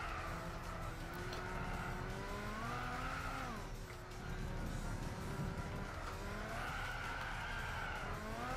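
A race car in the Gran Turismo 6 video game squeals its tires while drifting through a corner, the screech rising and falling over a steady engine drone, with a brief dip in the middle before the skid returns.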